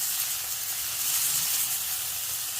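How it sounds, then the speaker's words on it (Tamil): Tomato and onion sautéing in a pan for a ladysfinger soup, a steady soft hiss of sizzling oil close by with no voices. "தக்காளி வெங்காயம் எல்லாம் நல்லா வதங்கணும்."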